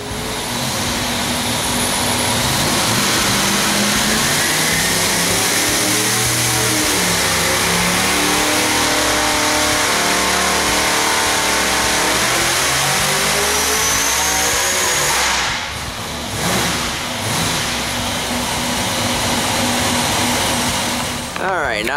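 A 2,600 hp ProCharged big-block Chevy engine roars through a sustained dyno pull, its pitch sweeping upward loud and continuous before cutting off, then brief idle bursts.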